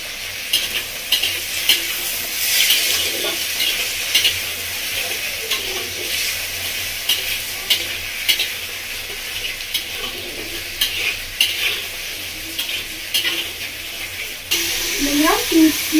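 Okra and potato fry in a pan with a teaspoon of salt for a home-style fish curry, giving a steady bright sizzle with repeated scraping stir strokes throughout, loud and close, with faint voices in the background.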